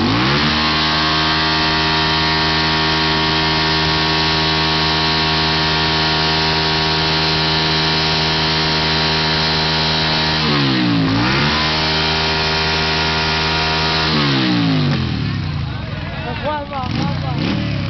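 A motorcycle engine revs steadily and loudly at a 2008 morning motorcycle gathering, its pitch holding high before dropping and climbing again, with crowd noise rising near the end.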